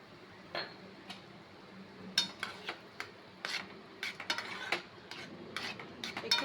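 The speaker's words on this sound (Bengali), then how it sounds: "ভালো করে নেড়ে দেবো অল্প একটু জল দিয়ে দিচ্ছি" A spoon scrapes and taps against a pan while tomato chutney is stirred, giving irregular soft clinks and scrapes, fairly faint and close, with no talk over them.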